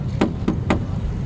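Three sharp knocks sound on the body panel of a 1986 Daihatsu Charade, evenly spaced and close, each a crisp metallic tap over quiet background hum.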